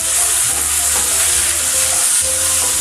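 Chopped tomatoes fry with browned onions in a pan for a small-fish curry, giving a loud, steady, close sizzle with low stirring scrapes underneath and no talk.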